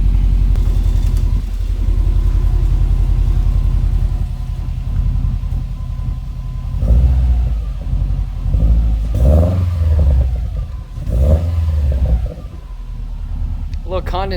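Subaru Legacy GT with an XForce cat-back exhaust idles with a deep, steady rumble, then revs in several short bursts, loud and close, with people talking throughout.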